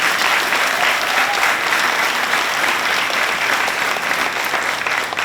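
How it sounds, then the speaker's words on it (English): A large graduation audience applauds steadily at a middle school ceremony, the dense clapping staying loud and continuous throughout with no talk over it. "Let's give a huge round of applause for the parents, the families, and the teachers."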